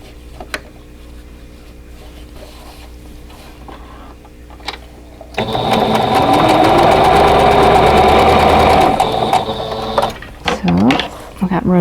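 A sewing machine stitches rows of a quilt block together, first quiet, then running steadily and loudly for about five seconds before slowing into a few short bursts.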